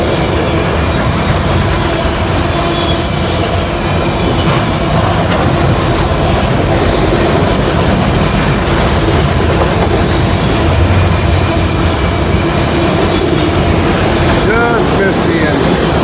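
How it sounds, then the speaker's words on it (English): A loud, continuous rumble of a freight train rolling past nearby in Sidney, Ohio, with steady rattling of wheels and cars and occasional higher squeals throughout. "Got that train over there in town."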